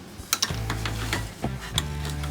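A socket wrench tightens a spark plug on a Yamaha Raptor 660 ATV, making a few sharp ratcheting clicks over a steady low hum, close and moderately loud, with no talking.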